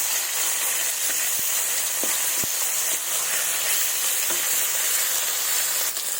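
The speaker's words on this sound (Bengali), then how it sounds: "মাছগুলো ভেজে নেব উল্টে দেবো দিয়ে এগুলোকে একটু লাল লাল করে একটু ভেজে নেব" Fish belly pieces fry in hot oil with a loud, continuous close sizzle and hiss. A few faint clicks of turning sound under it, and nobody speaks.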